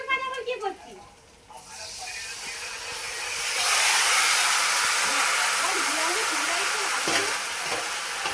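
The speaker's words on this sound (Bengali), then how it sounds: "এবার পেঁয়াজ মানে ফোড়ন দিয়ে সমস্ত পেঁয়াজটা ভেজে নেওয়া হচ্ছে" Onions frying in oil in a pan for chicken biryani: a voice talks briefly at first, then a loud, steady hissing sizzle swells up and carries on close by with faint background sounds.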